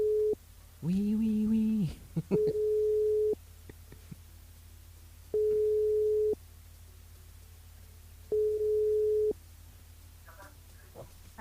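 A telephone line on a radio station switchboard gives repeated steady single-pitch tones in evenly spaced bursts, with a brief voice answering in between.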